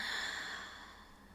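A single open-mouth exhale during yoga breathing, a soft, close breathy sigh that fades out gradually.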